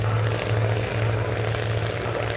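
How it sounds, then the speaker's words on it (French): A vintage Caudron G3 propeller biplane flying at an airshow in France, its engine giving a steady pulsing drone at moderate distance, with faint voices in the background. "L'avion est un Caudron G3."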